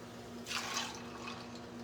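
Tonic water poured into a cocktail glass, a steady liquid splash and fizz rising for about a second, fairly close, over a low constant hum.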